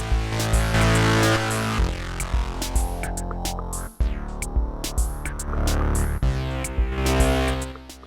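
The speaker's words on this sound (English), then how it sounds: "Can bit crush." Deluge synth loop processed with bit crush, gritty and crunchy with a pulsing rhythmic sequence and sharp hits, loud and upfront without speech.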